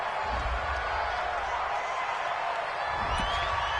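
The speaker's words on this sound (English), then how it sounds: "This home crowd, they're happy with that call." A virtual home crowd in a PS4 football video game keeps up a steady, muffled roar of cheering and murmur. It sits low in the mix as a continuous wash of noise.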